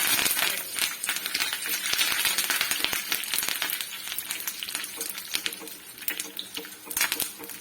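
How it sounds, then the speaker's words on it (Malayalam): Red chillies and curry leaves fry in hot oil after mustard seeds have popped, giving a dense, crackly sizzle full of sharp spits and pops, close and loud throughout. "കടുക് പൊട്ടി നമുക്ക് ചുമന്ന മുളകിടാം. ഇതിലോട്ട് ഇച്ചിരി കരിയാപ്പില ഇടാം."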